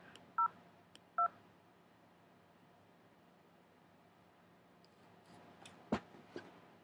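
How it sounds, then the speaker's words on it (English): Two short, clear telephone keypad tones sound in quick succession as an extension is dialed on an automated phone line. A quiet, hissy line with a few faint clicks follows. "If you know your party's extension, please dial it now."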